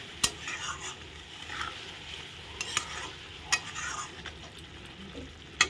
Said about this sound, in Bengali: এখন মশলাটা ভালো করে কষানো হবে।